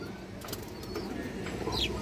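Big-headed pigeons at a farm loft coo in low, soft murmurs against a steady background hum, with a faint brief flutter partway through.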